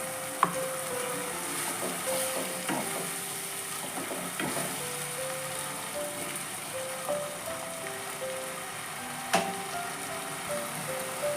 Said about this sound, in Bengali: দিয়ে এটা এবারে ভালো করে কষাতে হবে। এর মধ্যে আমি সামান্য জল দিয়ে দিলাম।